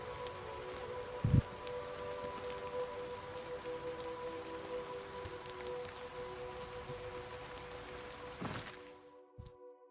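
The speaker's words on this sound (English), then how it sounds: "It's raining." Steady rain pours in the video game Oblivion Remastered, a dense constant hiss over a low ambient hum, with a brief thump near the start before the sound cuts out at the end.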